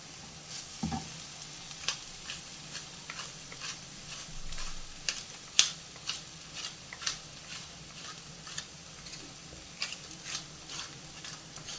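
Onions and masala in a pan with mixed herbs and crushed pepper, stirred with steady sizzling and a regular run of spoon scrapes against the pan, close and moderately loud, with no talking.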